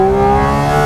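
A 2022 Porsche Cayman GT4 RS engine howls at high rpm after a downshift, a loud, sustained, tonal wail heard close up and without any break.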